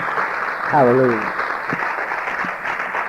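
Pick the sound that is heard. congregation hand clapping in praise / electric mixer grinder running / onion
congregation hand clapping in praise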